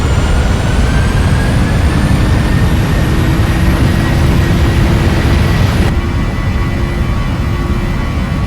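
Airliner engines spooling to takeoff thrust in a Prepar3D flight simulator, a loud continuous roar with rising whine tones that holds for the whole stretch, no talk.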